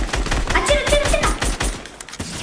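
Fortnite gameplay gunfire rattles in a rapid, loud automatic burst of closely spaced shots lasting a couple of seconds, up close and dominating the mix.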